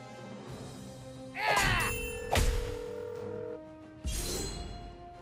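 A telephone rings in the South Park: The Stick of Truth video game, with a bright metallic ring and sharp clanging bursts spread across a few seconds, followed by a further ring near the end.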